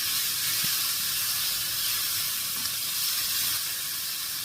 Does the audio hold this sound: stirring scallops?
yes